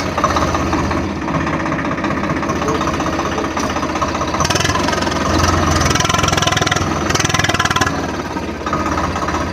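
A Swaraj Mazda tractor engine idles steadily and loudly up close, a continuous mid-to-low rumble with slight swells in intensity, while voices are heard faintly beneath it.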